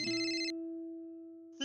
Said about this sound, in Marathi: वर्षाचा फोन. अरे मग उचल.